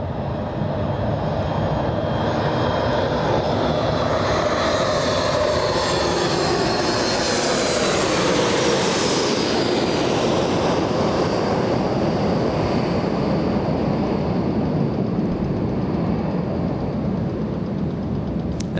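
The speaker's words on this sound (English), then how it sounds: "Let's see if we hear more of those wingtip vortices fly above us." A passenger airliner lands at Los Angeles International Airport and passes directly overhead. The engine roar is loud and continuous, sweeping from a rising whine to a falling pitch as it goes by, followed by lingering wingtip-vortex rumble and no voices.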